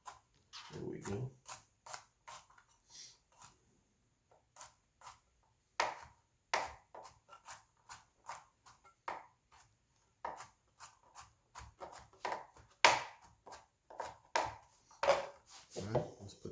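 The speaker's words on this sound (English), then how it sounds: "Now we just want a quick rough chop of the garlic." A knife roughly chopping garlic on a cutting board gives quick, crisp knocks in uneven clusters, close and fairly quiet, with a brief bit of talk near the start.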